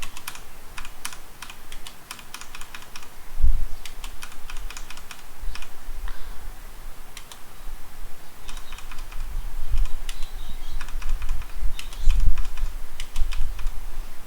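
Fingers type on a computer keyboard while HTML code is written, making rapid, uneven bursts of close key clicks with short pauses over a low background hum, and an occasional heavier thump.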